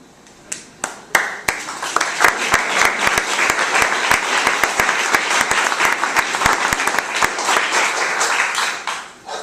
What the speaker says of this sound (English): Why would we applaud somebody doing the right thing in this day and time?